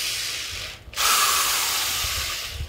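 A 220V electric wood drill with a 10 mm chuck, speed control and reverse whirs loudly, stops for a brief moment, then spins back up and runs steadily again close by.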